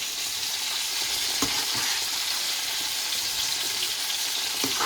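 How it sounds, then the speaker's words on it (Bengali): Chicken and hilsa fish fry together in a pan, giving a steady, dense sizzle of hot oil with a few sharp pops and crackles scattered through, close and continuous with no voices. "এই তো চিকেনটাও ফ্রাই করে নিচ্ছি, আর এদিকে ইলিশ মাছ ভাজা হচ্ছে, রূপচাঁদা মাছ ভাজা হচ্ছে"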